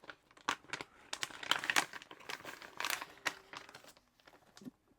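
An envelope holding a pocket pouch and thank you card is handled and opened close up, with continuous quiet paper crinkling and rustling in irregular bursts.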